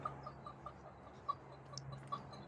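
A hen makes a short series of soft, faint clucks spaced like hiccups, close by in a quiet setting.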